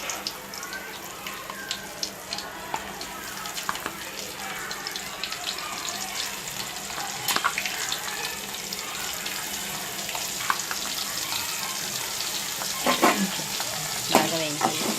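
A crispy corn mixture fries in hot oil, a steady close sizzle with bubbling and occasional stirring scrapes, plus faint water-like splashes.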